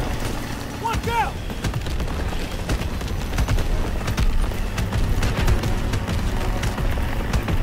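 Continuous gunfire in the Call of Duty WWII campaign, rapid shots and booms packed densely over a rumbling vehicle engine, with voices shouting in the mix.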